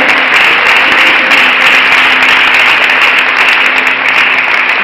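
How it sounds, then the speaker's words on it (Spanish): A church congregation applauds during a worship service, a dense, steady wash of clapping that stays loud and even for the whole stretch, with no voices on top. "Fuerte ese aplauso al Señor."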